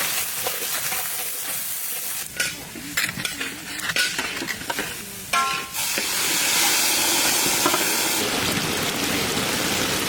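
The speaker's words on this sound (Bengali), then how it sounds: "পেঁয়াজ সুন্দর ভাজা হয়ে গেছে" Onions fry in hot oil with whole cumin and bay leaf. A broad steady hiss builds up under clattering stirs and knocks early on, then swells into a louder continuous sizzle near the end.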